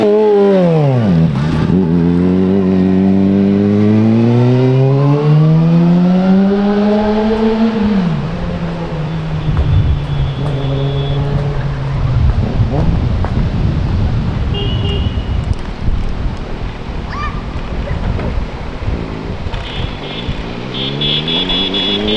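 A cheap, rare motorcycle engine revs up through the gears on a ride, its pitch climbing and falling in repeated sweeps, then settling into a steady drone with strong wind rush; a voice talks over it.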